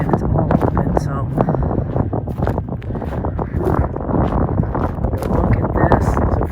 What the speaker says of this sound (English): Listen, I apologize if it's windy.